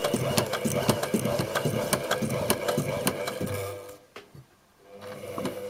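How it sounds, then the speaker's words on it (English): A Class 15 central-bobbin shuttle-hook sewing machine strains through 4mm finish plywood with heavy thread, giving a rapid mechanical chatter with sharp regular knocks, then briefly stops and falls nearly silent before running again. "it is sewing a 4mm finish plywood with a heavy thread"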